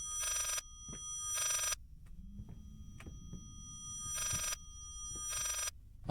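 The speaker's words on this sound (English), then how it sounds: "Well, that's a very old-fashioned phone." An old-fashioned bell telephone in the horror game Layers of Fear rings in four clear, evenly spaced bursts of rapid metallic trilling over a low hum, with soft thuds and footsteps in the quiet gaps.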